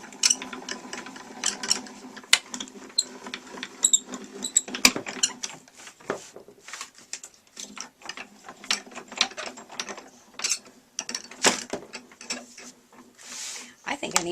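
A Spellbinders Grand Calibur die-cutting machine is hand-cranked as it feeds plates and a die through, giving close clicking, ratcheting gear sounds with irregular knocks and rattles throughout.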